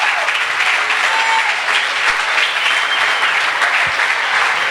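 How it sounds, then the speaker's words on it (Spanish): A church congregation at a Christian congress applauds steadily, a dense, loud, continuous wash of clapping that holds evenly across the whole stretch without talk. "Oiga, hermano, denle un aplauso al Señor."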